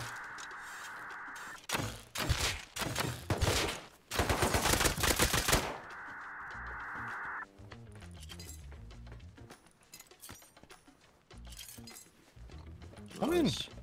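Gunfire in the game Rust aimed at a barrel, heard as several loud bursts of shots mixed with metallic clinks and mechanical clatter. Quieter stretches sit between the bursts, and people talk during the clip.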